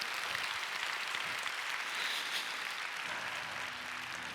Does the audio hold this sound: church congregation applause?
yes